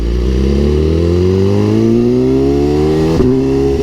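BMW S1000RR sport motorcycle accelerating hard, its engine note climbing steadily through the gears with a brief dip near the end, loud and continuous from close by.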